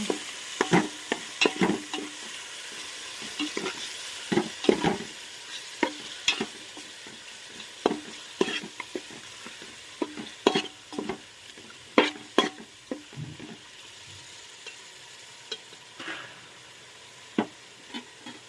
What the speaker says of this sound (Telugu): 1 కప్పు పెరుగు, వేసుకొని ఇలా కలుపుకొని